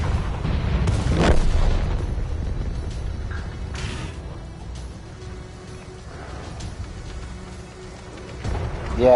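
Artillery shells in World of Tanks landing as deep booming blasts, one heavy impact early then scattered thuds and rumbling over a steady low battle drone, with a final swell at the end.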